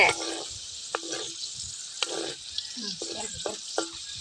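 Grated coconut roasting in a pan for rava laddu gives a low, dry sizzle broken by several short stirring scrapes and taps at uneven intervals, close and moderately loud.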